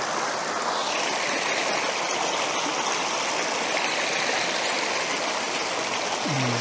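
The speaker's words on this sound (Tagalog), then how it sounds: "Tapos yung agos, ang lakas." A mountain stream flows strongly near a campsite in Mayantoc, a dense steady rush of water that fills the whole stretch, close and constant with no voices.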